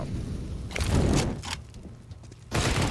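A Counter-Strike grenade detonates with a loud booming blast around the one-second mark, its rumble lingering and fading before another burst of noise at the end, under game sounds.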